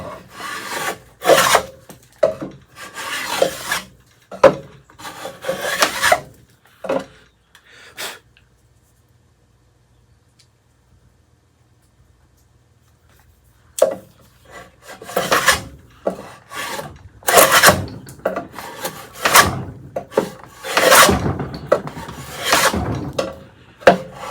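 A coachmaker's router cuts a groove in wood with a string of rasping strokes, stops for several seconds of near silence, then starts again with louder scraping passes.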